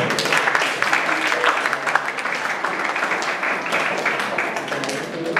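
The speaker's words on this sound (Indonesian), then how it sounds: "Tepuk tangan buat kita." An audience of young students claps at a talk on patriotic values, a continuous loud patter of many hands with voices mixed in.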